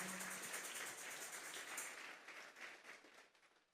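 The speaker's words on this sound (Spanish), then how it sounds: "Dele una ofrenda de palmas a Dios en esta hora." Church congregation applauding during a Sunday service, a dense, steady wash of many hands clapping that fills the room and gradually thins toward the end, with no talk over it.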